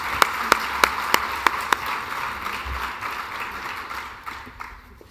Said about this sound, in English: Let's give all of these honorees a round of applause.